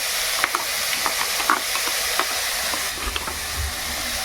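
A ginger, garlic and onion spice paste fries in hot oil over cumin seeds, making a loud, dense sizzle with a few sharp spits and scraping stir clicks.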